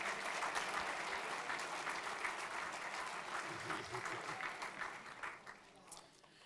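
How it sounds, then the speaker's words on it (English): Banquet audience applauding returning award recipients and Athletics Alumni Hall of Fame members, a sustained crowd of clapping hands that fills the room and tapers off with a few last claps at the end. "A round of applause, please, for our returning award recipients and members of the Athletics Alumni Hall of Fame"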